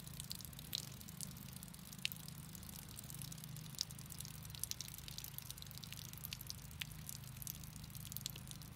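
Water dripping and trickling out the back of an arrow broadhead, faint scattered drips and small splashes over a low steady hum, with no talking.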